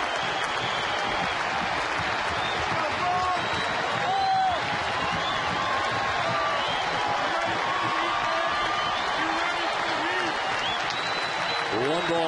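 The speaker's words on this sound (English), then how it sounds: "This capacity crowd at Fenway Park stands as one." A capacity crowd at Fenway Park roars and applauds steadily during a Red Sox home game against the Angels, a dense, continuous wall of cheering with scattered whoops rising above it.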